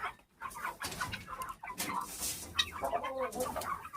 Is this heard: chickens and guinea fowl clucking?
yes